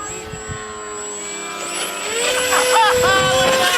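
A small radio-controlled plane's electric motor whines steadily, then swells louder and higher as the throttle opens in the second half, with a voice speaking over it outdoors.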